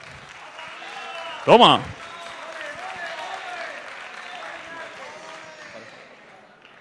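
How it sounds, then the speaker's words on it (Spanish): Applause from the audience at a university tuna music competition's award ceremony, a steady clatter of many hands under a brief loud shout and a person speaking nearby. "por favor, un aplauso"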